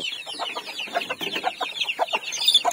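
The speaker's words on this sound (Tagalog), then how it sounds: "Update muna tayo sa aming mga chicken" A small flock of chickens clucks close by in a quick, irregular run of overlapping calls.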